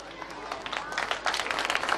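An audience at an annual day school event claps for the staff, a dense burst of applause that swells over two seconds, fairly close and loud.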